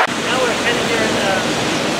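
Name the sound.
rainwater flowing into a stone gravel gully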